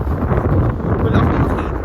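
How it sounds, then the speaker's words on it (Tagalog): Wind buffeting the microphone during an ATV ride near Jubail City, a steady low rumbling roar with gusty fluctuations throughout. "Ayan ang hangin."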